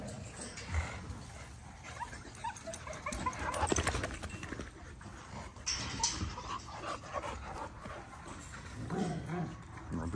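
A dog whimpers and whines in a cluttered indoor space, with faint background noise and shuffling around it; the sounds are moderate and fairly close, with no talk over them.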